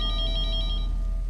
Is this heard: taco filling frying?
no